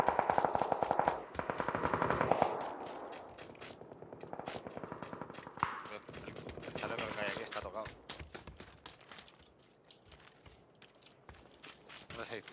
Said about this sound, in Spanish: ¿Dónde se disparan? ¿En el campo?